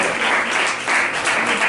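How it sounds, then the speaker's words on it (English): Audience applause at a live comedy show, a steady dense wash of clapping from a crowd filling the whole moment with no voices over it. "let's give him a round of applause also"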